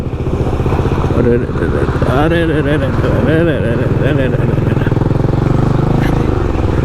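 A Bajaj Dominar motorcycle engine with its silencer fallen off idles loud and rough nearby, its uneven rattling exhaust putting out a harsh, sputtering drone with revving swells.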